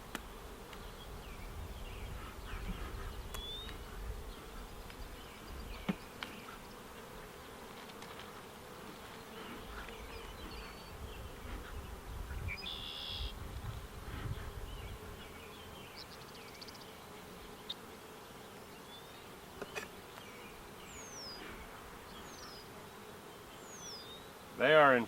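Honeybees swarm around hive comb in a constant, fairly faint buzzing drone, thousands of them humming steadily with occasional individual bees passing closer, under scattered handling noises and quiet movement.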